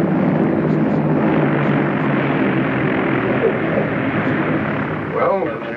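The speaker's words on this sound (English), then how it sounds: "Take over visually now and complete your landing." Aircraft engines roar steadily and loudly throughout as a plane completes a ground-controlled approach and landing on a runway, a sustained propeller-like drone with voices faintly present beneath it.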